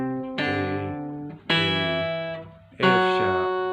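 Three ringing strums or chords on a 12-string guitar in C Lydian, each bright, shimmering attack sustaining and slowly fading into the next, close and fairly loud with no talking.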